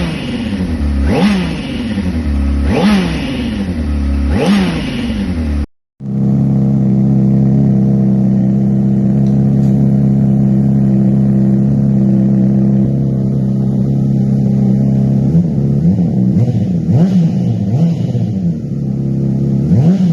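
A 2024 Honda CBR600RR motorcycle fitted with a loud aftermarket exhaust, heard up close with repeated sharp revs that rise and fall. After a brief cut, the engine holds a steady, loud, droning high rev, with more revving bursts near the end.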